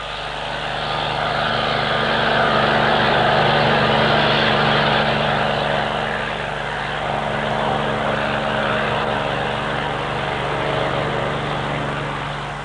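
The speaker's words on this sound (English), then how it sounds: "the helicopter lands at Kronogård after a successful recovery" Helicopter landing at Kronogård in Norrbotten in 1962 during a rocket recovery, a steady droning rotor and engine hum that stays loud and even throughout.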